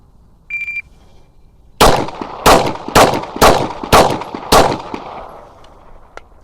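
Six sharp, loud pistol shots fired from a Glock 19 slide on a full-size grip, spaced roughly half a second apart, each with a ringing tail, preceded by a short beep.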